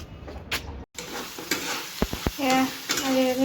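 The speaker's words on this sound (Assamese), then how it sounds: "ব্ৰইলাৰ আকৌ আনিছিলে, তাকে অকণমান ভাজি দিছোঁ।" Broiler chicken pieces frying almost dry with a little oil and spices in a pan, a loud close sizzle broken by spoon stirring and scraping knocks, no talk.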